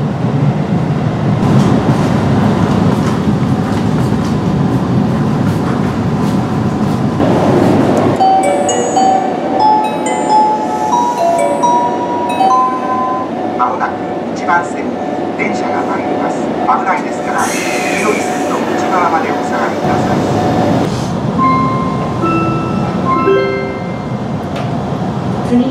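Aichi Loop Railway train running on the line, a steady loud rumble of wheels and motor with clickety rhythm, over which onboard announcements play and chime tones sound near the end.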